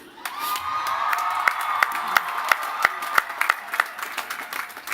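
Crowd cheering and whooping at the Lehman College 50th commencement ceremony in 2018, a steady wash of voices with sharp claps and shouts punctuating it, fading slightly toward the end.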